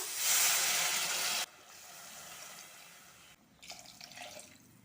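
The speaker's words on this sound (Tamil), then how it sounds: "நாலு டம்ளர் போல் தண்ணி சேர்த்துக்கலாம்" Water pours noisily into a pot of varagu (kodo millet) sambar rice for about a second and a half, then a quieter trickle follows, with brief clinks near the end.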